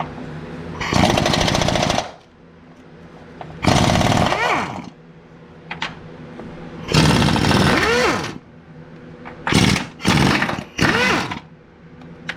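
A power tool spins out 15mm mount bolts on a 2016 Buick Lacrosse engine bay in loud, close bursts: three long runs, then several shorter rapid ones, with quieter pauses between.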